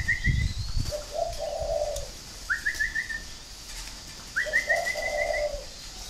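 A spotted dove coos three times in slow, soft phrases, each a rising note followed by a lower hoot, clear over a quiet background.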